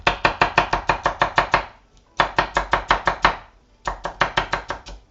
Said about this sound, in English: the chopping is my favorite part